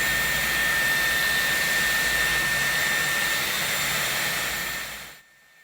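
A Dyson Airwrap mini hair styler blows air in a loud, steady broadband rush that holds for about five seconds, then cuts off abruptly into near silence.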